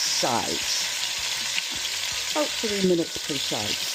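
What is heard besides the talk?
chuck roast searing in hot oil in a pot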